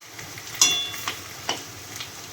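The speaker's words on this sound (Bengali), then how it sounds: "এইখানে যে আলু আর ডিম ভাজা চলছে" Potato and egg fry in a pan, with onion and chilli among the potatoes: a soft, steady sizzle runs throughout, broken by a few light taps of a utensil against the pan.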